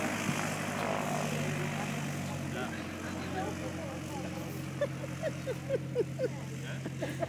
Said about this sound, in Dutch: Daar is het vliegtuig hoor, ja.